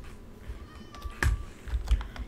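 A cat meows once in the Minecraft video game, a short, clear mew over quiet background clicks and soft tapping.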